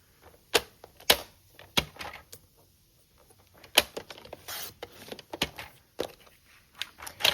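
Paper being cut for a card background gives a series of sharp, isolated clicks and snips spaced irregularly, fairly close and moderately quiet, with gaps of near silence between them.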